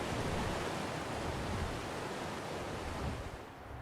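Waterfall in the video game Ark Survival Ascended, near a volcano cave entrance, giving a steady, broad rushing roar that stays even throughout before thinning slightly at the end.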